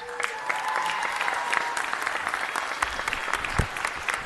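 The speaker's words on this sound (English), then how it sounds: "One more big round of applause." A room at a city council meeting bursts into sustained applause, dense clapping held at a steady level for the full few seconds with faint crowd murmur underneath.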